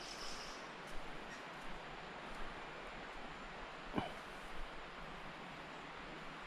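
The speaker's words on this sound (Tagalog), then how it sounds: "Naririnig nyo? Hagos lang ng tubig ang naririnig nyo." Water flows steadily at an eco park in Carmen, Cebu, a continuous close wash of noise with a brief knock partway through and no talking.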